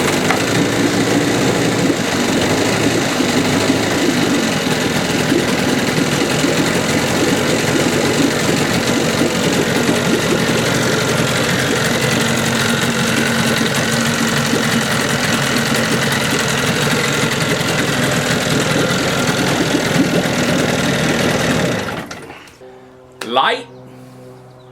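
A 15 HP Evinrude outboard motor, freshly fitted with new grommets and a new impeller, runs loud and steady for about twenty seconds, then cuts off abruptly, leaving a brief faint rattle.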